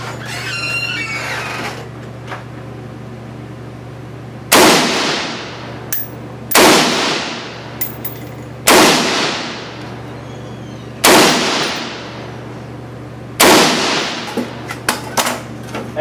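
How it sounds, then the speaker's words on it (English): FN SCAR 16 rifle fired at a range target using an HK416 magazine, five sharp, loud single shots spaced a couple of seconds apart, each with a ringing decay over a steady low hum. "Now we're going to switch to the HK416 mag, shooting at target number 2."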